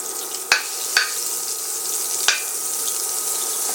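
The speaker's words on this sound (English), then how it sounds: "So I'm using about 3 tablespoons Kerrygold to cook the veggies in." Three tablespoons of Kerrygold butter sizzle in a pan for cooking vegetables for a keto shrimp stir fry, with a steady broadband crackle broken by a few sharp pops near the start.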